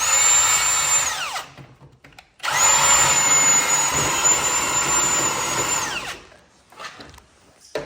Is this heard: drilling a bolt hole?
yes